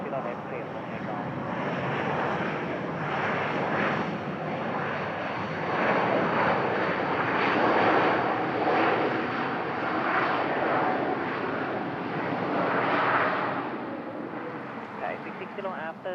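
A Myanmar airliner takes off from runway 20 left at Bangkok, its jet engines a loud, steady roar that swells and holds for many seconds before easing slightly near the end.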